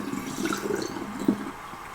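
Alcohol soaked with blackberries, originally 90-proof, being poured into a bottle, a close, soft, continuous liquid trickle and gurgle with a small splash near the end.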